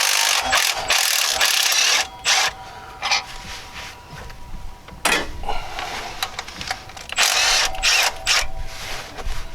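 Wrench working the 15 mm belt tensioner bolts on a 2003 GMC Yukon Denali, with close, intermittent bursts of ratcheting clicks and metal scraping separated by short pauses.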